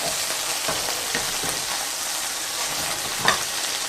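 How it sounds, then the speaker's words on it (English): A bacon cheeseburger patty sizzles in a pan after being flipped, a loud, constant close frying hiss with a few soft scraping bumps and no talking. "we're going to go and flip him over in this pan right here"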